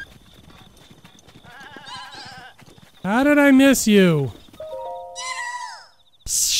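A goat in Zelda: Breath of the Wild gives a couple of loud, wavering bleats close by, between stretches of someone talking over quieter game sounds and music.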